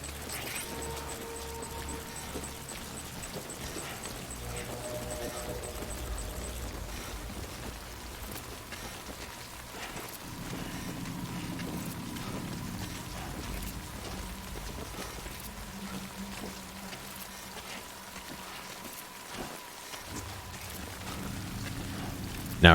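Steady rain falls in Death Stranding, a continuous even patter and wash that holds for over twenty seconds with a low background hum, at moderate level.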